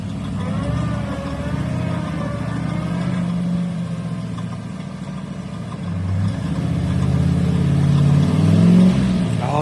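A Ford Thunderbird engine with a stick shift, rumbling and revving unevenly as a learner driver works the clutch, loud and continuous with swelling surges.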